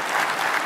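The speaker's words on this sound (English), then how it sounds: "So give yourself a round of applause" Audience at a political leadership conference in Oklahoma City breaking into dense, steady applause, a short burst of many hands clapping together with no pauses.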